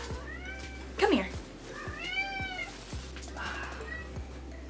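A pet cat meows three times, drawn-out and fairly close, with a soft rhythmic ticking underneath and a sharper scuffing burst early on.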